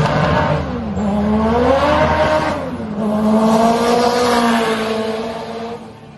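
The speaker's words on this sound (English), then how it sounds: "We're coming through the gears in a rolling start. Second peels, third gear just peels, and fourth gear's peeling as well." A twin-engine car accelerates up through the gears from a rolling start with wheelspin, its loud engine note climbing, dropping at each shift and climbing again, close and without talk.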